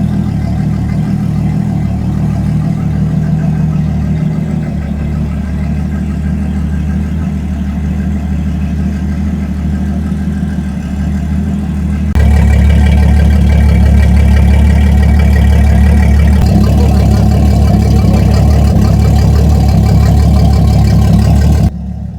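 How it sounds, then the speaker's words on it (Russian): A Yamaha F200 outboard motor from Japan runs on a test stand without its gearbox, a steady, loud idle with a deep low hum that steps up to a fuller, heavier drone partway through, no talking. "Так, запустили мотор без редуктора. Нормально работает."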